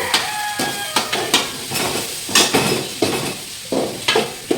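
Small pond fish frying in a home kitchen, with a steady sizzle broken by repeated sharp scraping and clinking of a utensil against the pan.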